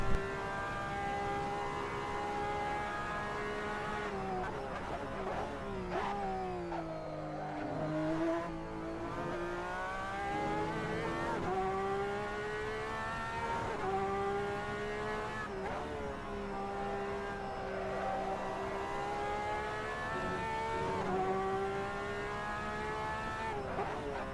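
Race car lapping Monza in Assetto Corsa, its engine wailing through rising and falling revs, with tonal tire-flex whine layered over the drone across the whole stretch, and no one speaking.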